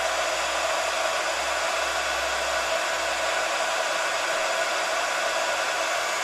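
A heat embossing tool blows steadily to melt gold embossing powder on a leaf-shaped piece, a close, continuous whooshing roar like a hair dryer that holds at an even level for the whole stretch, with no talking.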